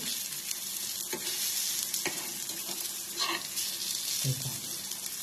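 Potato poha vadas frying in a pan in a home kitchen, a continuous close sizzle with occasional scraping knocks of a spatula as they are turned and stirred.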